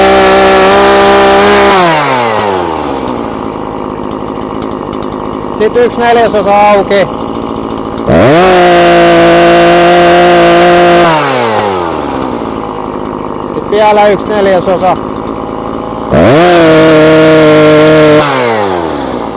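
Husqvarna 340 chainsaw running during carburetor adjustment, repeatedly revving up to a high scream and dropping back to idle in roughly three cycles, close and loud, with someone speaking over it.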